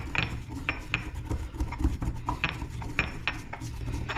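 Cumin seeds and dried arbol chili being ground by hand, a steady scraping and rubbing with repeated gritty strokes and small knocks, close and fairly quiet, no talking.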